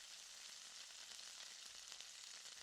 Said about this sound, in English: when it's smoking hot, add the onions and potatoes